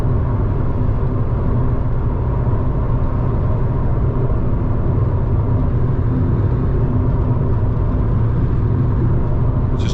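A 1993 Saab 9000 CSE Turbo with automatic transmission cruises along, its engine and road rumble forming a loud, constant low drone heard from inside the cabin, with no talking.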